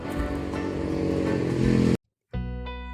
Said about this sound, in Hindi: मोहन शहर में अपनी बाइक लेकर निकल पड़ता है।